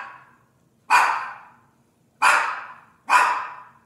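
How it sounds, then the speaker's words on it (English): A pet dog barks at home while someone films a bass-fishing bait presentation: three sharp, loud barks spaced about a second apart, after a faint softer yip at the start, with silence between. "And the dogs are gonna bark the minute I start doing this."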